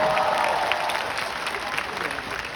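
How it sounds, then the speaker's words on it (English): An arena audience at a comedy show claps and cheers steadily for a couple of seconds, the applause fairly close and lively with a voice briefly mixed in. "Give her a clap, you guys."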